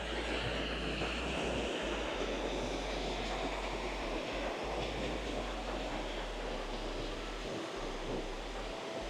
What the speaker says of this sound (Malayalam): ഓ, വലിയ വെള്ളച്ചാട്ടാന്ന് തോന്നുന്നേ.